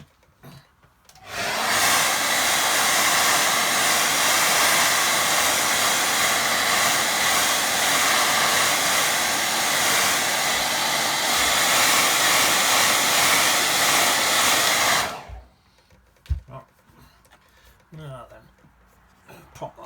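A hair dryer blasting air over a wet watercolour painting of blue and purple rocks, a loud steady roar switching on after a quiet moment and cutting off abruptly near the end, followed by a few soft handling sounds.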